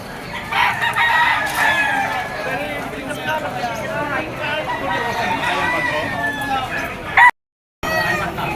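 Roosters and chickens at a busy open-air poultry pet market, including white-legged straight-comb stags, with continuous crowing and clucking mixed into crowd chatter and nearby voices, briefly cut off near the end.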